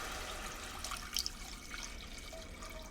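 Chicken stock poured into a pot over sautéed garlic while making ramen, a fairly faint, steady liquid pour with a few small splashes and no talking.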